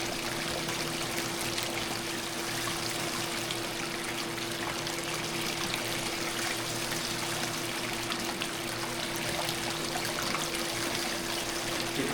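Water runs through a Gold Strike Micron gold recovery machine as a steady, close rushing flow over a low mechanical hum, with no pauses and no talk.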